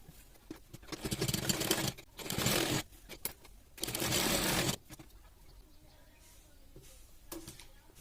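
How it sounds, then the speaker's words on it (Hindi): A sewing machine stitches net fabric onto the main fabric in short bursts. Three loud whirring runs of about a second each are separated by quieter pauses, and softer clicks and handling noise follow toward the end. "अब इसके बाद यहाँ से पूरे में लेके यहाँ तक सिलाई कर देंगे हम"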